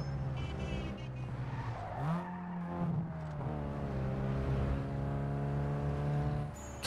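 A Volkswagen Golf in Need for Speed Underground 2 gives a full, deep engine roar, holding steady, dipping briefly, then climbing again as it revs, loud and close throughout.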